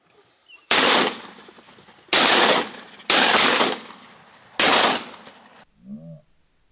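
Shotguns fire during a Kansas duck hunt, four loud, close blasts with the middle two in quick succession, each trailing off briefly, followed by a short call afterward.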